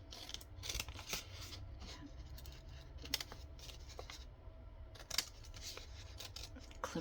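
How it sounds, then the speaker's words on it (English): Scissors snip through fabric while vintage pockets are crafted, giving several quiet, close cuts in short bursts separated by soft handling rustles. "And then I'm just going to take my scissors and"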